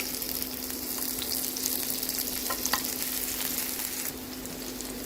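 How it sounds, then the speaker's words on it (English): Sliced onion frying in hot sesame oil in a cooking pan, a steady close sizzle with crackling pops that runs unbroken throughout, with no voices. "let's fry our sliced onion"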